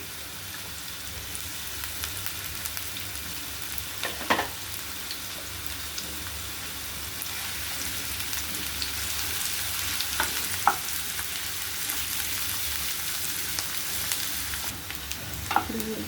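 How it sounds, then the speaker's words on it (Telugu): Onions fry in a pan with a steady, soft sizzle throughout, close but quiet, with a few brief scraping or tapping sounds scattered over the crackle. "ఉల్లిపాయలు వేగిపోయినాయండి."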